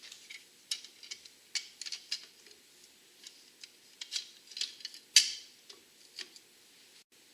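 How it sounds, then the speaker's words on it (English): A retainer being tightened on a classic Bronco Saginaw steering box gives quiet, crisp ratcheting ticks in an irregular series, close by with no talking, one click sharper and louder than the rest. "I'm going to go ahead and tighten down the retainer"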